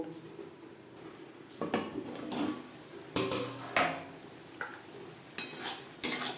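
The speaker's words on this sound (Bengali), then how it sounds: "ঢেকে দেব।" A lid goes onto a pan of rui fish curry simmering on low flame, producing several metallic clanks and clattering knocks of cookware, spaced irregularly over quiet kitchen background.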